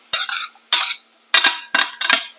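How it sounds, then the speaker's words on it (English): A spoon scraping around a pot of pumpkin black bean soup with root vegetables, heard as five close, distinct strokes, some of them double scrapes, with short quiet gaps between them and no talking. "So stir the pot so you get everything to cook evenly"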